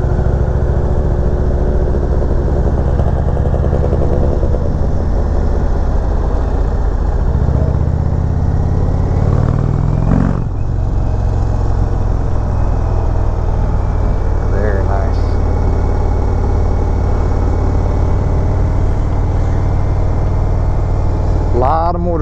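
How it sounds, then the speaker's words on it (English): Motorcycles at the Barber Vintage Festival, including vintage Japanese machines, rumble and idle steadily in a crowded outdoor setting, a continuous loud engine drone with a brief sharper burst midway, under people talking. "Motorcycles here, a lot of them for sale."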